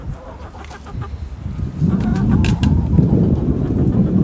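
A rooster attacking a person clucks and squawks close by in short agitated bursts, over rustling and scuffling noise.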